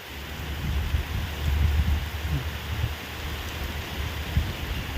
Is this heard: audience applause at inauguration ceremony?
no